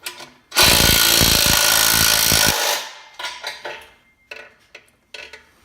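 Power tool working on an exhaust nut of a 2005 Honda Civic EM2: a loud two-second whirring burst from a nearby tool, then scattered metallic clanks and short rattles.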